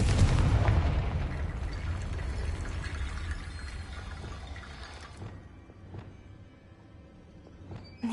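A Confringo blasting spell explodes in the Hogwarts Legacy video game, a loud, broad boom at the start that rumbles and slowly fades over several seconds, with a few faint crackles near the end.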